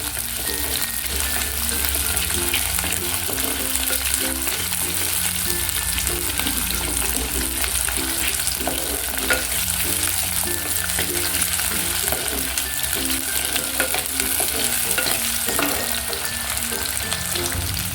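Small shallots frying in a pan, a steady loud sizzle running the whole time with faint scraping from stirring underneath and no voices.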